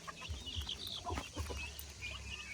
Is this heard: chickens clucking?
yes